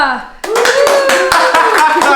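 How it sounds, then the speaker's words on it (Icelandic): A small live audience at a casual party game event claps in quick sharp bursts, close and loud, while people talk and laugh over it. "það er að klappa"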